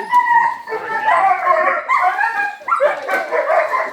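Several dogs bark, yip and howl together in a continuous excited chorus, loud and close.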